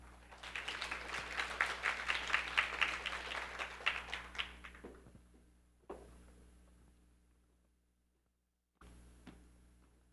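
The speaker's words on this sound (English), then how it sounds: "Let's give the big applause" An audience at a global health and welfare forum applauds to welcome a speaker, a dense burst of clapping that swells for several seconds, then thins and fades, with a few scattered claps after.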